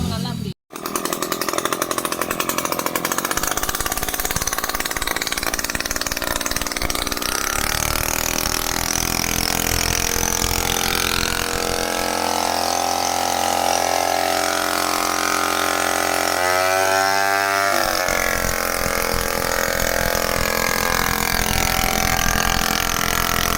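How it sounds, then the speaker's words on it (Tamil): A water pressure washer machine sprays to clean a motorbike, a loud steady engine-like roar and hiss running continuously, with a brief dropout near the start, a shift in tone partway through, and people talking over it. "நல்லா ப்ரெஷராக அடிக்கிறது மிஷினு பாருங்கள்"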